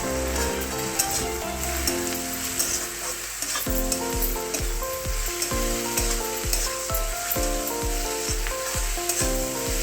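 Chicken curry ingredients frying loudly in a pan, a dense continuous sizzle broken by a regular series of sharp stirring knocks and scrapes against the pan; no voices.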